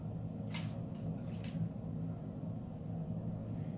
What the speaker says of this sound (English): I'm going to go ahead and change out his water.